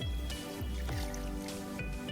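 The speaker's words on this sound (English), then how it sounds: "now fill a pot with water and" Water running into a medium cooking pot in a home kitchen for boiling beef ribs, a steady trickle with soft dripping and splashing, close and quiet.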